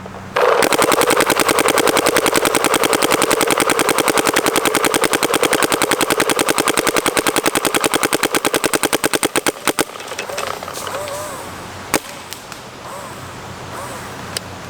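A paintball marker fitted with a Freak barrel kit fires in one rapid, machine-gun-like burst lasting about nine seconds, then stops abruptly, leaving a few faint clicks and mechanical noise.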